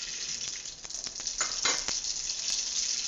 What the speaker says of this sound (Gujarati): તો જો તેલ ગરમ આપણે મૂકી દીધું છે અને તેલ ગરમ થઈ પણ ગયું છે. પહેલા આપણે રાઈ નાખશું